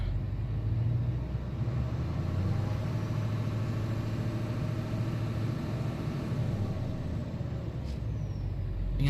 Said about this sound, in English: Now I gotta hear the exhaust note on the inside just to see if she's got a little more rumble with the idle.